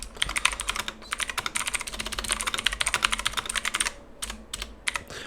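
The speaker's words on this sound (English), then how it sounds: "I deliberately hit my keys a bit louder on purpose" Keys on a computer keyboard are struck deliberately hard in rapid, uneven bursts, loud and close, with a short pause before a few final scattered keystrokes.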